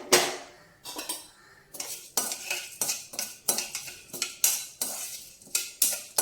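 Chana dal and urad dal fry in oil while a metal spoon scrapes and knocks against the pan in quick, repeated strokes, with little sizzle beneath the clatter.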